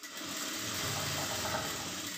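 A sewing machine stitching a plain blouse runs in a steady, continuous whirring drone, close and even throughout with no pauses.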